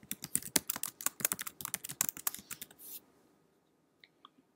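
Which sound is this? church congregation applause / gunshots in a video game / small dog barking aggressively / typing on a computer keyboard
typing on a computer keyboard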